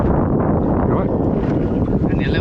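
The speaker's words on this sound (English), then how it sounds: "that wind's chopping up a little bit" Strong wind blows over the open sea aboard a charter fishing boat, a steady loud rush buffeting the microphone with low rumble throughout, people talking faintly underneath.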